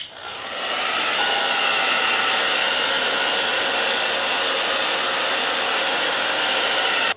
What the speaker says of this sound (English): So I'm going to go ahead and blow dry it for 30 seconds.